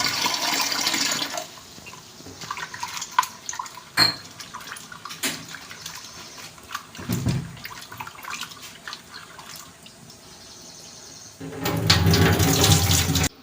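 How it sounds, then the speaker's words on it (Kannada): Raw adka plantain is rinsed again with water, with running and sloshing water, scattered knocks and clatter, and a louder pour at the end. "ಇನ್ನೊಂದು ಸಲ ನೀರು ಹಾಕಿ ತೊಳ್ಕೊಳ್ಳುವ"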